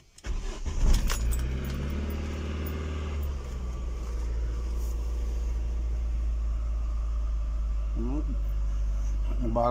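Ford Focus 1 engine cranks and catches after a throttle body cleaning, then settles into a steady, loud idle rumble with faint rattles, on a cold engine that had not been started that day.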